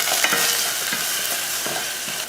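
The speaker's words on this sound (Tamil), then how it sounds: "ரசம் தாளிக்கிறதுக்கு எண்ணெய் ஊற்றிடலாம். கொஞ்சம் கடுகு, கொஞ்சம் கருவேப்பிலை, 2 வரமிளகாய், கொஞ்சம் பெருங்காயத்தூள்" Mustard seeds, curry leaves and dried red chillies sizzle in hot oil for a rasam tempering, a bright crackling fry close up with faint stirring, no voices.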